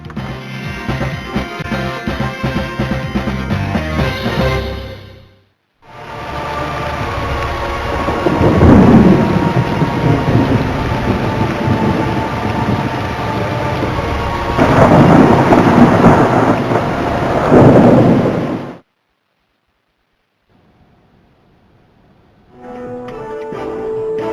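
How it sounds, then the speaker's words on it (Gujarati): A heavy thunderstorm in Jetpur, Saurashtra, with loud, dense rain and deep rolling thunder. The roar comes in long sustained stretches broken by abrupt silent cuts. "જેતપુરમાં પણ ગાજવીજ સાથે વરસાદ ખાબકી પડ્યો"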